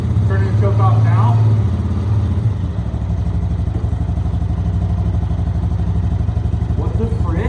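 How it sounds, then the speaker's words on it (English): A 6x6 ATV engine idles steadily after the choke is turned off, a low, even rumble running close and continuous, with someone talking over it at the start. "I cannot believe it's idling when I rev it up"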